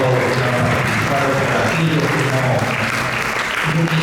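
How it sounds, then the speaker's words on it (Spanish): Audience applause for the participants at a seminary talk on the Amazon, a steady, dense roar of clapping lasting throughout, with voices faintly mixed in beneath. "Un aplauso para todos los que han participado"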